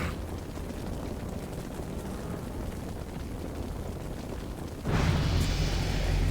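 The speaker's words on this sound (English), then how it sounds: "Ice barrage." A rumbling ambient roar in a video game gives way to a sudden loud icy burst from an ice barrage spell, which then sustains as a heavy crackling rush to the end.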